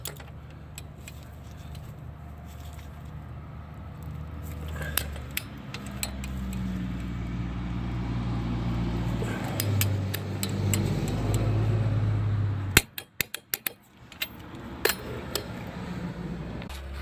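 Torque wrench tightening a ball joint bolt on a 2013-2016 Dodge Dart front control arm, with a low mechanical rumble and scattered metallic ticks and clicks, a brief quiet gap near the end, then a few sharp clicks.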